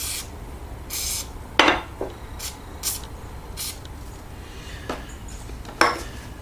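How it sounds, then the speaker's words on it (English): Hardened steel jaws of an Ash & Co. 8-inch 3-jaw lathe chuck being fitted into their slots, lightly oiled, giving several sharp metallic clinks and scraping slides spaced apart in a quiet shop. "I'll put these jaws in, so we'll see how they look and feel."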